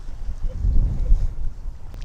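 Strong wind buffets a boat on Bueng Lahan lake, a loud, continuous low roar that rises and falls across the whole stretch.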